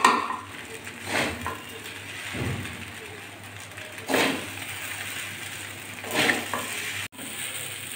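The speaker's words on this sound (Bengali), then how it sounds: "এখন ভালো করে মিশিয়ে নেব ম্যাগির সঙ্গে" Maggi noodles being stirred together with fried egg, onion, garlic and chilli in a sizzling pan: scraping strokes come about every two seconds over a soft, steady fry.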